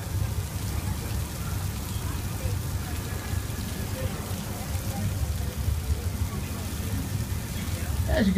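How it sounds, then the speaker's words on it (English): Steady patter of artificial rain from an overhead sprinkler onto surfaces at a studio tour flash flood set, a constant dense hiss with low rumbling underneath, lasting throughout. "rain is created by an overhead sprinkler hidden from view"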